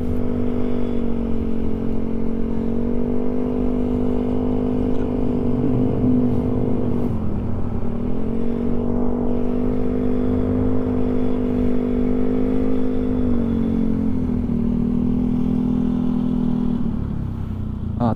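Motorcycle fitted with a loud JVT exhaust pipe revving at a checkpoint, a heavy steady engine drone with sustained throttle holds and a couple of dips and swells, close and loud for the whole stretch with no talk.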